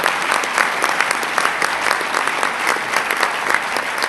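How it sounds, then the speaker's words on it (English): A crowd gives a big round of applause for County Executive Mark Poloncarz at a New York State announcement event, sustained dense clapping from many hands, loud and even from start to finish. "Let's give a big round of applause to County Executive Mark Poloncarz"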